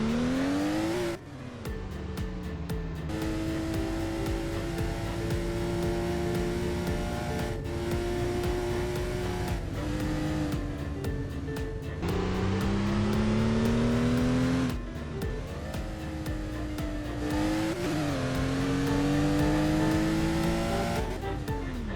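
A Porsche engine in a video game revs hard and steadily, its pitch climbing through repeated gear changes, loud and close throughout with no talking.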